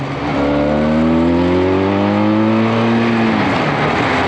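Benelli 502C motorcycle engine accelerating hard in second gear, a loud, close, continuous rising roar with climbing harmonics that holds for several seconds before easing off, with no voices over it.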